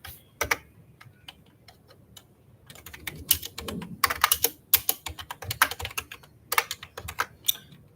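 Keys clatter on a computer keyboard as code is typed, irregular bursts of sharp close clicks with short pauses between runs, with no talk over them.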